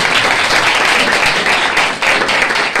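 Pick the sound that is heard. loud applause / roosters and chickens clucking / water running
loud applause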